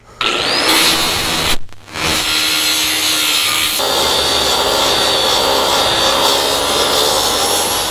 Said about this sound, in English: Now we're going right on to grinding those.